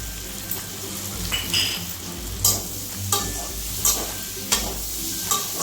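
Raw banana pieces and papad frying in a pan, a constant crackling sizzle broken by regular scrapes and clanks from a spatula as the food is stirred.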